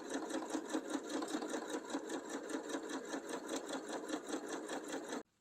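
A sewing machine stitches along a seam, running back over earlier stitches. It gives a steady, rapid mechanical whirr of needle strokes up close and stops abruptly near the end.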